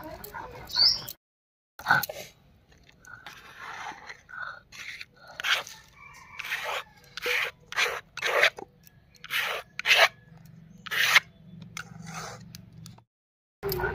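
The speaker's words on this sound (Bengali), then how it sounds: "সবটা ডাল বেটে নিচ্ছি।" Soaked lentils being ground by hand into a thick paste for dal bori, giving repeated scraping, crunching strokes in an irregular rhythm, close and fairly loud, with brief pauses and no talk.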